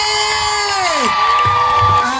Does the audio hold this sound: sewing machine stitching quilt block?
no